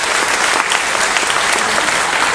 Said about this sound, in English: please give a round of applause for Tara